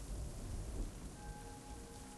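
Steady rain falls with a low rumble of thunder underneath, a dense continuous hiss that stays even throughout, with no talk.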